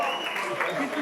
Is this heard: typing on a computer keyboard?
no